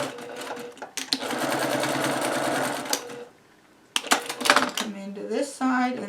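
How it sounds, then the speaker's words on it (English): A sewing machine stitches the edges of fabric Christmas crackers with bursts of rapid, close, rattling whirring, one long run and then shorter starts and stops after a brief pause, with a voice talking over the later part. "I'm going to sew these edges together."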